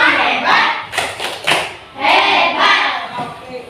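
Primary-school fourth graders in a classroom do a patterned group clap in bursts of rhythmic hand slaps, with children's chanting voices layered over the beats.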